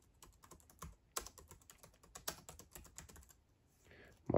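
Typing on a computer keyboard during a macOS Monterey install on an unsupported Mac: quick, close, irregular clicky keystrokes in bursts with short pauses, and a louder thump at the end.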